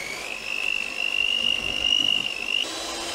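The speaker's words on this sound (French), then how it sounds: "je récupère ici le batteur et je viens fouetter comme ceci" An electric hand beater whisks beignet dough with eggs in a bowl, a steady high motor whine running for about two seconds at moderate loudness, with no talk.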